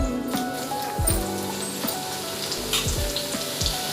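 Cut samosa dough side pieces frying in hot oil give a steady bubbling sizzle dotted with crackles and small pops. Faint tonal background sounds run underneath.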